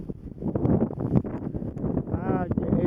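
Strong wind buffets the microphone outdoors on a cold, rainy day, a steady rushing roar with gusts that shift in loudness, while people talk over it throughout.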